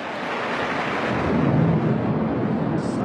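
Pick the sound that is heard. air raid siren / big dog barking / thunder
thunder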